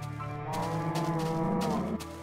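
A Minecraft cow lets out a long, drawn-out moo, close and clear, with no one talking over it.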